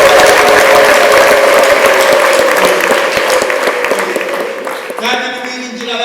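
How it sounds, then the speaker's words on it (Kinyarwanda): A church congregation at a worship service in Rwanda applauding, dense, loud clapping that fills the room and fades toward the end, with a voice over it. "Muhe Imana amashyi y'umutima."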